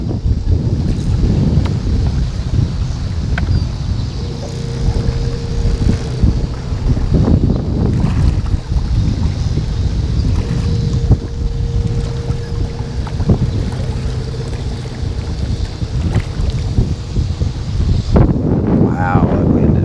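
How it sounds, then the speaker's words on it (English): Strong, steady wind roars across the microphone outdoors near water on a fishing outing, a loud continuous rush with gusty buffeting and faint boat noise, and a voice speaking now and then. "Wow, that wind is really tough."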